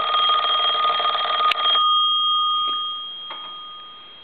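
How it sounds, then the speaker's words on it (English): The original bell of a GTE A&E telephone rings loudly and close for under two seconds, then stops abruptly. A faint steady tone and a few light clicks follow. "Let it ring a couple times."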